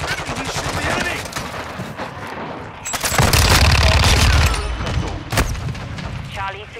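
Loud, close automatic gunfire and booming blasts from an objective-capture video game match, coming in heavy bursts with a dense volley in the middle, mixed with game voices calling out.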